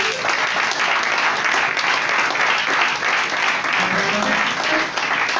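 A church congregation breaks into sustained, dense applause during a couples' seminar service, the clapping steady and full-room throughout with faint voices mixed in.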